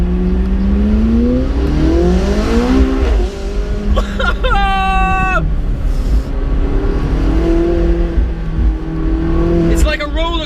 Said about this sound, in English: Those pops and cracks add so much drama.